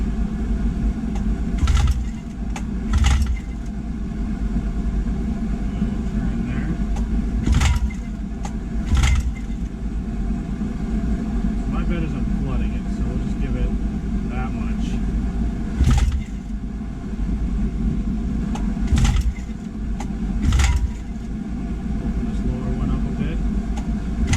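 A 1958 Johnson 5.5 hp outboard motor runs on choke with a steady, close, low rumble, broken every few seconds by sharp sputtering bursts.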